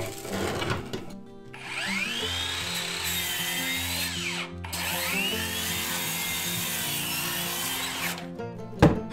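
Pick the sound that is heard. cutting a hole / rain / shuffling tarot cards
cutting a hole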